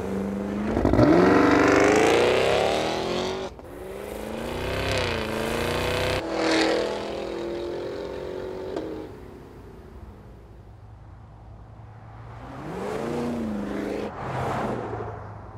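A supercharged 6.2-liter V8 rated at 682 horsepower, in a Cadillac Escalade, revs hard several times. Each rev climbs to a loud roar, then drops back to a rumbling idle, with no talk.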